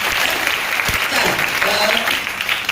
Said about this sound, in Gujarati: તમારે જોરદાર તાળીઓથી અમને વધાવી દેવાનું છે